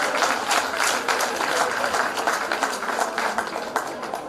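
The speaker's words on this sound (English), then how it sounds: "Please give them a round of applause." Audience applause at a primary school graduation ceremony, many hands clapping in a sustained, fairly loud roll throughout, with occasional louder individual claps.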